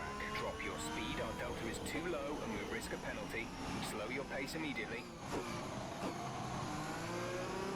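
F1 race cars in the F1 2021 video game at the Imola Grand Prix, several engines whining and shifting gears in steady overlapping passes, loud and continuous throughout.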